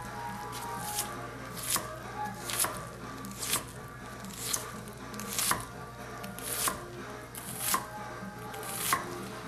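A kitchen knife dices an onion into fine cubes on a cutting board for corn chowder, making a regular run of about a dozen crisp, soft chops with brief pauses between them.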